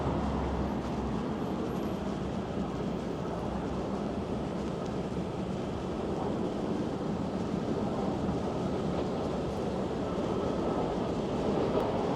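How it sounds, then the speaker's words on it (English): A subway train rumbles past behind a construction site along Bloor Street in Toronto's West End, a steady broadband roar that holds for the whole stretch, with wind noise mixed in and no voices. "I can hear another subway passing behind this construction site here."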